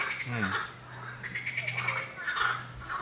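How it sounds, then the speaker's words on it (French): Frogs croak steadily at a nearby pond, a dense chorus of repeated calls with insect-like trilling, continuous and fairly close with no talking. "Il y a des grenouilles juste à côté de nous sur l'étang"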